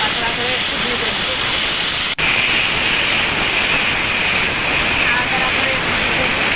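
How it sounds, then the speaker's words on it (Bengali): Radish sizzles steadily in a hot pan with salt and torn green chilli, a dense continuous hiss of frying that carries on alone at close range, broken once by a brief dropout. "নাড়াচাড়া করে একটু ভেজে নেবো।"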